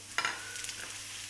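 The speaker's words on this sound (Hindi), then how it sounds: "फिर अब मैं उसमें सूजी डालने लगी हूँ।" Semolina roasting in ghee with cardamom gives a brief scrape of a stirring spoon and a soft, faint sizzle, close by and short.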